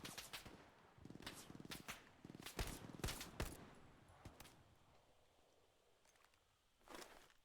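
Gunfire from the World War II shooter Hell Let Loose on PC: a series of sharp shots and short bursts, some close and loud, others distant, with a lone late crack after a quieter stretch of rustling.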